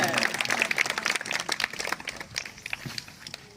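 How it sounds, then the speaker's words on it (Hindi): Crowd clapping at an outdoor Republic Day ceremony in Bhadra, Kasdol, Chhattisgarh, a dense patter of many hands that is loud at first, then thins and fades, with voices talking over it. "जोरदार तालियां बजाएंगे।"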